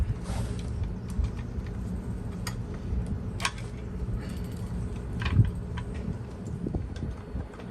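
The loose motor of a 1950s Sears Dunlap drill press is lowered, giving close creaks, scattered metallic clicks and ticks, and a knock near the end over quiet shop noise.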